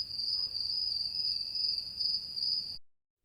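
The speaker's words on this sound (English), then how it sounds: "I love the idea of crickets." Cricket sample for lofi music: a steady, high-pitched chirping trill with a slight pulsing rhythm, close and clear, cutting off abruptly near the end.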